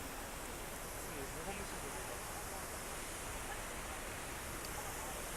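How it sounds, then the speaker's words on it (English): A waterfall along the Cheonggyecheon stream in Seoul gives off a constant, broadband rush of falling water. It is loud and close, with no breaks. "we've got another nice waterfall here."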